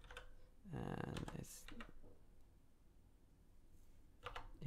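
Computer keyboard typing during an online CircuitPython weekly meeting, a quick burst of clicks and keystrokes mixed with speech and room noise, then fainter taps trailing off.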